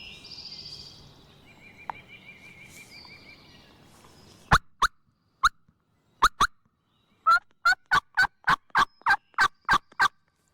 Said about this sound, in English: They just now started gobbling over there.